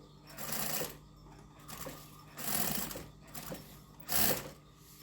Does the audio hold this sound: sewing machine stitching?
yes